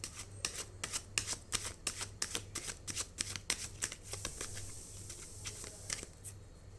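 Tarot cards are shuffled in quick, crisp riffling bursts, soft and close, with a low steady hum underneath and no talking.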